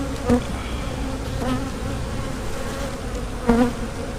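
Honeybees buzz around a nuc hive, a close, steady drone punctuated by a few louder passes as bees fly near.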